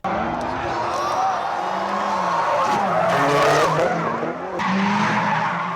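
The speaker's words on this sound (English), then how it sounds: "Take that car, set it into a graceful drift sideways as the wheels slowly lose" Tires on a turbocharged rear-wheel drive drift car skid and wail through a long sideways slide, with the engine roaring and revving close by and a faint crowd in the background.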